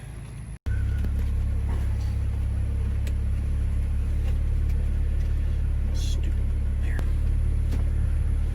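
A Jeep Gladiator fitted with a Sunrider hardtop drives along, its engine and road noise a steady, loud low rumble heard from inside the cab, with faint occasional rattles and no clear talk.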